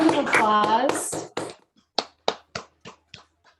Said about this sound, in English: So can we just give you a round of applause?